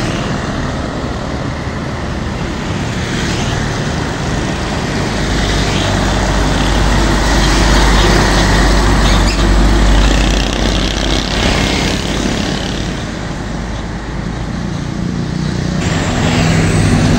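Large trucks, including box trucks, Mitsubishi trucks and container trucks, labouring up the steep Jayanti incline, a loud continuous engine roar and drone that swells and holds for the whole stretch, close by, with no voices.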